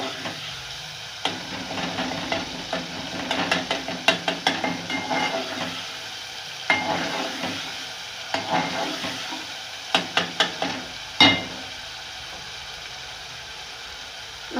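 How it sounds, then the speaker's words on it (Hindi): A spoon stirs and mashes tomatoes in a pan of frying masala. A soft sizzle runs underneath, and the spoon makes irregular scraping knocks and clinks against the pan, with a few sharper taps standing out. "जो थोड़े बहुत टमाटर खड़े खड़े नज़र आ रहे हैं उन्हें भी चमचे से अच्छी तरह मैश कर दें।"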